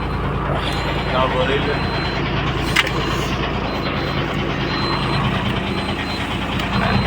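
A freshly started, heavily loaded truck from Alang idles with a loud, steady, low diesel rumble close by. People talk over the engine throughout.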